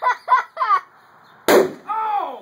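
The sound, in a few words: dry ice bomb exploding in a 5-gallon pail of water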